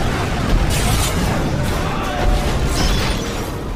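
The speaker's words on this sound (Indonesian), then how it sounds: "Namun kapal perusak terus menjatuhkan bomnya dan memberikan dampak kerusakan susulan." Depth charges dropped by a destroyer on a submarine in a World War II war film burst in deep, heavy booms that roll through a dense, roaring underwater rumble, with two stronger thuds standing out.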